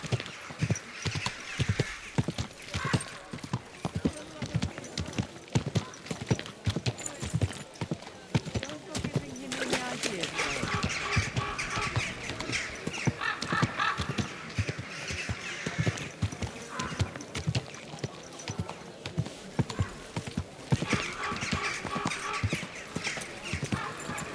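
Rapid, continuous clip-clop of galloping hooves in the video game Kingdom Come Deliverance 2 fills the whole stretch, loud and close, with occasional voices and a whinny mixed in.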